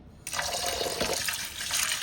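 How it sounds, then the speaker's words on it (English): Long grain rice is rinsed in water, giving a brief close sloshing and trickling splash that runs continuously for a couple of seconds. "I'm going to wash the rice."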